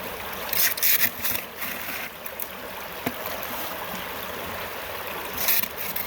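Water rushing through a gold prospecting sluice in a creek in Indiana, a steady close wash and trickle with brief louder splashing surges, no talking.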